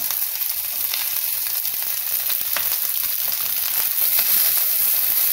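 Two medium onions cut into large pieces sizzle steadily in hot oil in a pan over low heat for a gravy, a dense continuous frying hiss up close that grows slightly louder, with faint stirring clicks.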